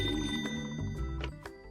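A telephone rings over a busy background of music and clatter, its bell tone repeating in short bursts.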